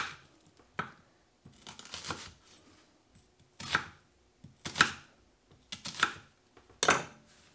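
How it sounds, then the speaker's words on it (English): A knife chops through an onion on a cutting board, cutting it in half and then into quarters, with a series of crisp, close thuds in an irregular rhythm and short pauses between cuts. "we'll cut it in half, and then each of those we'll just cut into maybe quarters"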